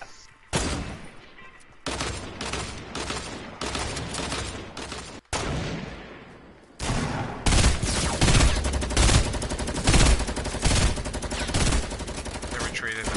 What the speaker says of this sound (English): Look, they're shooting on top of the house.